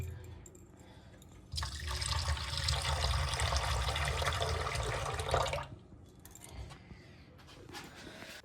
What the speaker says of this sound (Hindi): फिर मैं चाय बना रही हूँ।